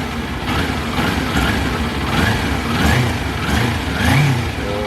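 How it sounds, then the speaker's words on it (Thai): A 2019 Kawasaki Ninja 400 motorcycle engine idles steadily up close, its low rumble swelling slightly now and then, with no voices. "เรามาฟังเสียงเครื่องกันนะครับผม"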